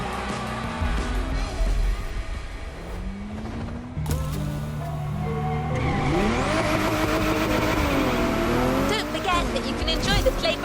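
Gymkhana cars in The Crew Motorfest, engines revving and rising in pitch with tire squeal and skidding as they accelerate and slide, loud and busy, with a voice speaking over part of it.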